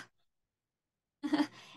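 A child's or adult's breathy exhalation imitating heavy panting after running, used to demonstrate the letter H: a short, rough burst of breath followed by a softer trailing breath, close and fairly loud after a long silence.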